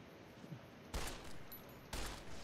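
Gunfire in the video game Fallout New Vegas comes as two heavy, booming bursts about a second apart over a low background hiss, fairly faint overall.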